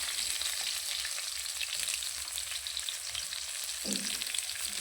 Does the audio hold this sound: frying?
yes